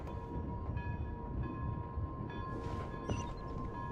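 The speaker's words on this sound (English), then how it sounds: "Oh my gosh, it's a whole ass train station." A train rumbles at a station in the game Genshin Impact, a low steady rolling drone with faint tonal hums layered over it, heard alone at moderate distance without talk.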